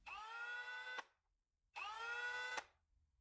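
Two brushless cordless screwdrivers, a Ryobi R18DDBL and a DeWalt DCD 791 D2, each run briefly at minimum speed, giving two separate steady whining motor hums of about a second each with a short silent gap between them.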